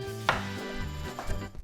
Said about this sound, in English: I'm chopping up some melon.